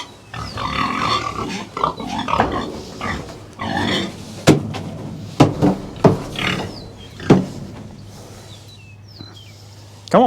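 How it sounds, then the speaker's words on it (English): Pigs grunting and snorting close by while being coaxed toward loading for the processor, a run of short bursts and louder sharp grunts over a steady low farm hum. "Come on, piglets."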